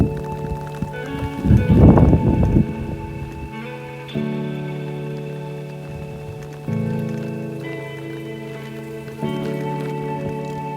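Rain falls steadily on a surface during a bicycle tour around Iceland, with a soft, continuous patter, a louder burst of drops near the start, and faint steady tones running underneath.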